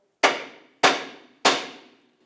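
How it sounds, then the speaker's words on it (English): A small hammer strikes the steering knuckle of a 2008-2012 Honda Accord three times at an even pace, each a sharp, close metallic tap that rings briefly before fading. "you could take a little hammer, tap the knuckle"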